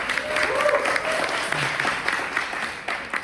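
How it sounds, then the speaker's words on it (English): An audience at a panel event on arts for youth applauds for a few seconds, a dense, steady wash of clapping that tapers slightly near the end, with a voice faintly present underneath. "Always leave room for those applause."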